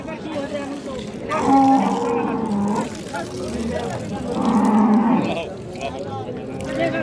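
At a cattle market, a dairy cow with her calf gives two long, low moos a few seconds apart. Buyers and sellers talk and the crowd murmurs throughout.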